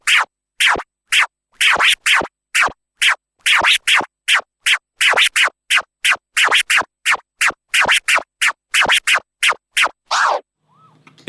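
A DJ scratches a record on a turntable in the military pattern, about two dozen crisp, evenly spaced strokes grouped in a steady marching rhythm, loud and close with no talking.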